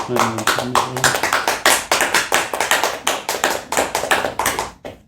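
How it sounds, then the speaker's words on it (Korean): A church congregation breaks into sustained applause at a Korean Thanksgiving service, many hands clapping close and loud for several seconds before the sound tapers off abruptly at the end. "감사의 박수 드립시다."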